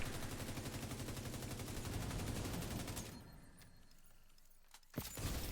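Rapid automatic gunfire from the video game The Division 2 rattles continuously for about three seconds, then cuts off, leaving a quieter stretch before one sudden loud bang.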